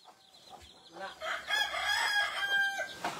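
Rhode Island chickens cluck and one crows on a farm, a short, faint burst of bird calls with a few clucks leading into a rising crow.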